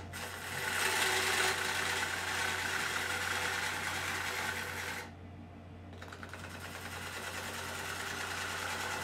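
Wood lathe turning a burl bowl while light finishing cuts are taken, a steady whirring hum with faint scraping that briefly drops away before resuming, no talking.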